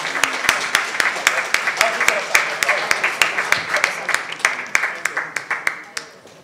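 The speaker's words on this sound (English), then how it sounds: "let's give a very big round of applause to the panelists and to the moderator." Audience applause at a science forum for the panelists and moderator, a fairly sparse crowd clapping with sharp, distinct individual claps in a steady rhythm that gradually thins out.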